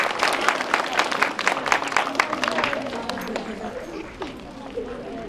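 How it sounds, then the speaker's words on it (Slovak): Loud, dense applause from a crowd at a school start-of-year ceremony welcoming first-grade pupils, rapid clapping that gradually thins and fades toward the end. "ktorých určite privítajme veľkým potleskom"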